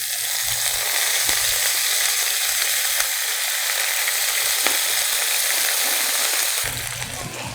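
Tteok-galbi, Korean grilled beef patties, frying in oil in a pan, giving a loud, steady, close sizzle with crackling spatter that eases slightly near the end.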